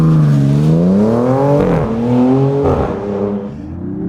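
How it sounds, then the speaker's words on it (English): A 2026 Dodge Charger Scat Pack engine climbs loudly in pitch as it accelerates, shifting through gears with brief dips before pulling hard again, heard from inside. "And it's not a bad sounding engine."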